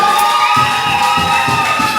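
A church congregation cheers and claps together in a sustained, loud wash of voices, with rhythmic clapping beats running under the crowd noise.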